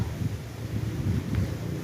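Steady low wind buffets the microphone, a continuous rumbling gusty noise with no voices.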